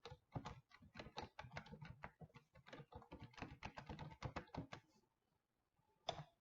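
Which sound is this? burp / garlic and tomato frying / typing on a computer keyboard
typing on a computer keyboard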